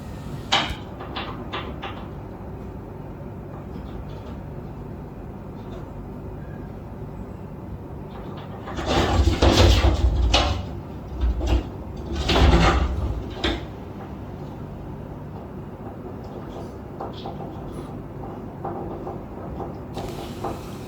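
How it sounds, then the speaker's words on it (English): Knocking on a hotel room door in Kuala Lumpur comes in two short clusters of sharp raps midway through, set against an otherwise quiet, faintly humming room. "The knocking continued, and I kept chanting, trying to calm myself down."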